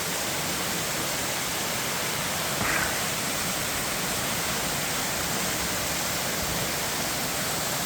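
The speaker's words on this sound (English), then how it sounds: "Listen to that water." A waterfall near Matlock, Derbyshire, gives a constant broadband roar of running water, steady and fairly close, with no other sounds standing out.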